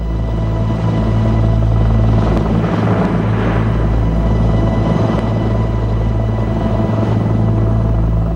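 A helicopter hovers low over a space capsule that is filling with water after splashdown, its rotor a loud, steady, continuous drone that never lets up.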